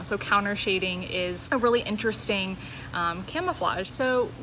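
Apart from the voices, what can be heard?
None of the usual background noises is heard.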